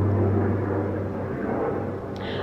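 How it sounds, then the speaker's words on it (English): An airplane passing overhead outdoors, heard as a steady, loud, broad rumble that holds throughout with no talking. "There's a plane going by."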